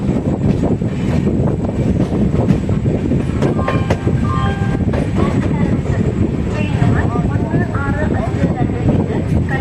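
Kannur–Yesvantpur express 16528 rolls into Tirur railway station with a steady heavy rumble of wheels and carriages, with faint metallic squeals and whines over it, continuous and close throughout.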